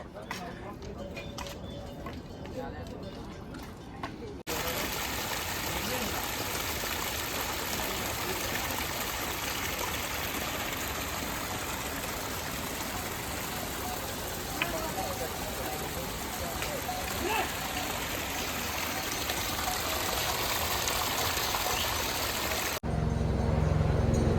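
Steady rushing water pours continuously from taps fed by mountain waterfalls, a loud broadband flow that fills the scene, with a quieter stretch at the start before it swells.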